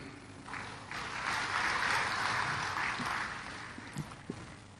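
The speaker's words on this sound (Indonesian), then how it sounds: "Jangan terlalu cepat tepuk tangan." An audience applauds during a speech about the first year of the Prabowo-Gibran government, a sustained wash of clapping that swells and then fades over several seconds, with a few louder claps near the end.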